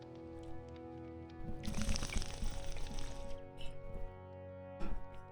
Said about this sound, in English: Oh, need to drink some water.